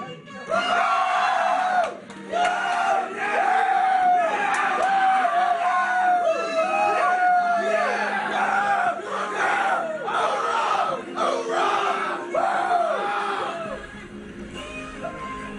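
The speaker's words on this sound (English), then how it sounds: "I don't know if I'd be screaming hoorah on television due to Frozen" Crowd of Marines roaring and whooping in excited reaction to the Disney film Frozen, a sustained chorus of overlapping shouted cheers that swells and ebbs, loud and close, with the film's song faintly beneath.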